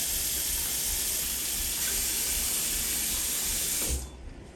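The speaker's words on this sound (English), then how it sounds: "When I pull that trigger, see how the liquid is coming out through the nozzle?" A Fake Bake Aura Allure Xena spray tan gun sprays rinse liquid through its nozzle in a steady, loud, close hiss that holds for about four seconds and then cuts off abruptly.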